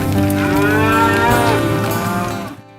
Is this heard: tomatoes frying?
no